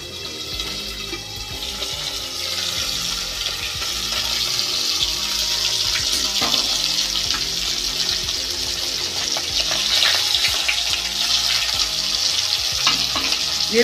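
Pabda fish frying in a pan of hot oil, a steady hiss and crackle with sharp spatters popping through, growing louder and denser as it goes, with no talk over it.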